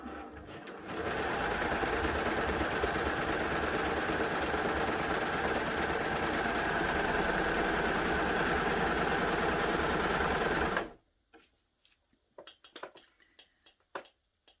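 A Baby Lock Gloria combination machine sews in one loud, continuous, rapid mechanical whir lasting about ten seconds, then stops abruptly, leaving faint clicks and handling noises.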